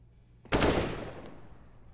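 Single loud gunshot burst from a weapon in the video game CS:GO on the map Mirage, sharp onset followed by a decaying echoing tail, alone with no talk.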